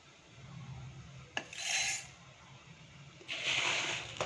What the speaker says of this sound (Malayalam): നമുക്കിനി മിക്സിയിലിട്ട് പൊടിച്ചെടുത്തുകൊണ്ട് വരാം